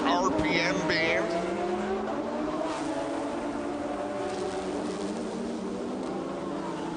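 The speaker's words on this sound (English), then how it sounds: "it's amazing to hear them whine out there as they rev up to their peak RPM band" Race car engines at the Grand Prix de Trois-Rivières whine as they rev toward peak RPM, a sustained, rising drone of several cars heard steadily from trackside, with a commentator talking over it.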